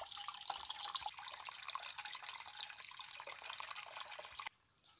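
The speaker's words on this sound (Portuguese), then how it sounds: "Vou deixar a panela encher pra gente cozinhar," Tap water runs steadily into a cooking pot on a rural farm, where beans are being prepared: a continuous, fairly quiet hiss and splash that shifts slightly in tone near the end as the pot fills.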